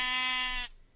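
A single short bleat from a Minecraft sheep, a clear, near, wavering tone lasting about half a second before cutting off into quiet.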